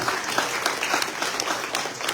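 Audience applause at a French-language public gathering, dense, loud and continuous clapping from a crowd throughout the short stretch.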